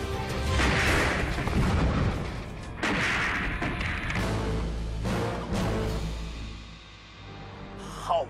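Gunfire in the video game CrossFire comes as heavy, booming shots and blasts in several loud bursts, close and punchy, ringing out and fading before a final sharp hit.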